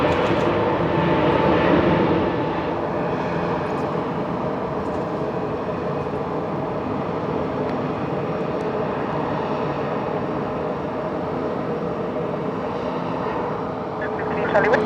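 A Boeing 737 BBJ business jet takes off at Zürich-Kloten airport, its engines giving a loud, steady roar that holds for the whole stretch, with radio voices talking over it.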